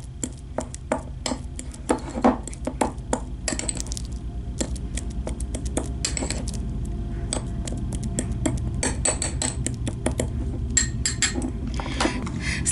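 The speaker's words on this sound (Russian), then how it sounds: "Я разминаю банан простой вилкой." A banana being mashed with an ordinary fork for a rice-flour face mask, giving a run of soft squishes and sharp clinks of metal against a bowl that repeat unevenly throughout, close and fairly loud, with no talking.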